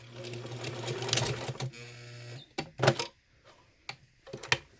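A sewing machine stitches a zipper pocket in a fast whirring run that stops partway, followed by a few short mechanical bursts and clicks.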